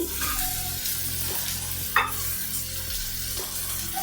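Chopped onion and green chillies stir-fry in a pan with a loud, close, continuous sizzle, while a spatula scrapes through in regular rhythmic passes and a sharp clink sounds midway.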